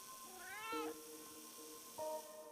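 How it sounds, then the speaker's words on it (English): A winged cat in a video game gives a rising-and-falling meow, followed moments later by a shorter tonal chirp, both quiet and isolated over a faint background hum. "A kitty with little wings."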